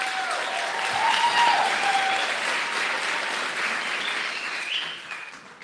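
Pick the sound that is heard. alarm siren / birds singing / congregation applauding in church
congregation applauding in church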